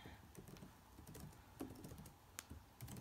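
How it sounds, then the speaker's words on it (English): Fingers type on a computer keyboard in quick, uneven bursts of light clicks, quiet and close, with brief pauses between words. "So now I want to type something different."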